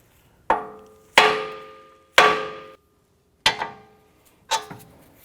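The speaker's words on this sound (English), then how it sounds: "We're going to use a hammer and we're going to strike the knuckle here to release the tie rod end" A hammer striking the steering knuckle of a 2004-2008 Acura TL to free the tie rod end: five sharp metallic blows, each ringing out and decaying, spaced about a second apart in a quiet garage.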